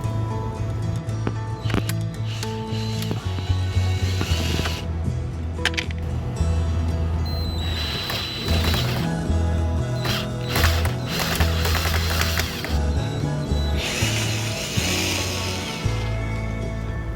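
A mini ratchet wrench clicks steadily as it loosens bolts in a cramped spot on a 14-year-old SM5 during a cabin air filter change. The rapid, close mechanical ratcheting runs almost nonstop.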